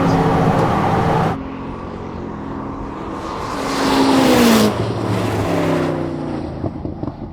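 A Ferrari SF90 XX accelerates hard in a drag race against a Koenigsegg, the engine note climbing through rising pitch sweeps, loud and close, then easing off with some rattling toward the end.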